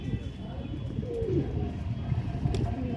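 A pigeon of a long-flying breed coos in low, soft pulses close by, with faint bird chirps over a steady background hum.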